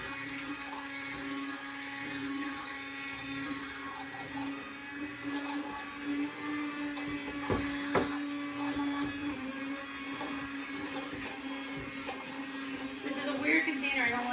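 An immersion blender whirs steadily in a container, blending egg, vinegar, mustard, salt and drizzled avocado oil into homemade mayonnaise, a continuous mid-pitched motor drone with faint clatter, quiet and fairly distant.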